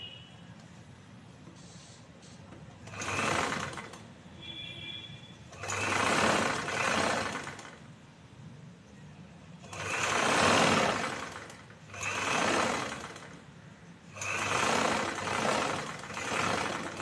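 A sewing machine top stitches a choli blouse along a curved edge with canvas, running in five separate bursts of steady, close mechanical whirring with short quiet pauses between them.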